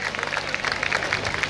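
Audience applause follows a karate students' performance, a brief, even patter of many hands clapping at a moderate distance.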